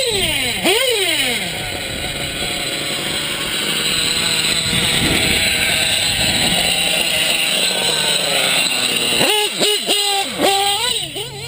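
Motorcycle with an aftermarket exhaust pipe revving loudly and up close, with rising and falling throttle sweeps, a sustained run, then several sharp blips near the end.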